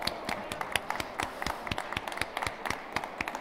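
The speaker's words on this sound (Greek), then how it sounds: "Δώστε ένα χειροκρότημα στο Θωμά" Audience at a gastronomy forum applauding a speaker, a thin scattering of claps from a small crowd, irregular and fairly faint, lasting a few seconds.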